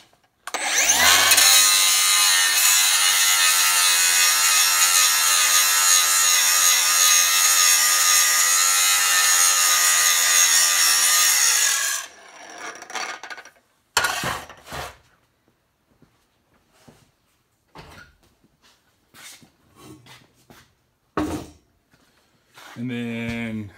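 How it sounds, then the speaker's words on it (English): A 6-inch 3M Cubitron grinding wheel, 1/4 inch thick, grinds hard facing with a loud, steady high whine for about ten seconds, then winds down and gives way to scattered clatter and short bursts. "And then 6-inch Cubitron, 1/4-inch grinding."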